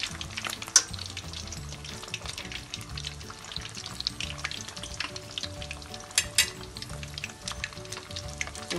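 Minced pork rolls frying in a generous amount of oil, a steady close sizzle with crackling pops and occasional bursts, no talking.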